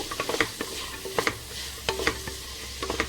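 Beans and carrots stir-fried in a pan: a soft sizzle under irregular close scraping and tapping strokes of a spatula, with no voices.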